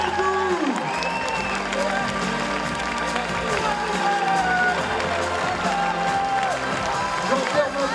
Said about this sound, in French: Un tonnerre d'applaudissements, Mesdames et Messieurs